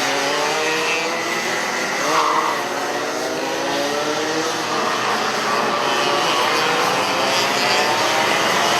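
Race cars at full throttle on the newly opened Chiang Mai circuit during a senior master novice final, engines roaring loudly and continuously as the pack passes close by, with no talk.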